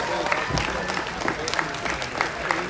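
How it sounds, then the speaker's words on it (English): An arena crowd at a FIRST Tech Challenge robotics regional championship opening ceremony applauds the judges, with continuous clapping and cheering mixed with voices throughout. "Let's give them a round of applause."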